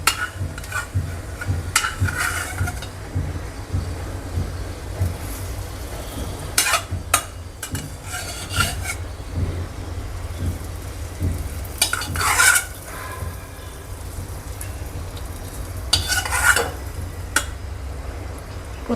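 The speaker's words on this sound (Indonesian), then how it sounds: "Sekarang kita mau masukin ini bawang gorengnya langsung ya." Fried shallots are stirred into a tofu and meatball soup in a pot, giving a steady scraping and sizzling texture with occasional sharper clinks of the utensil against the pan, close and continuous with no talking.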